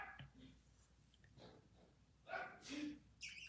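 A single sharp sneeze bursts out near the middle of a quiet indoor moment, fairly close but not loud, followed by a softer breathy sound.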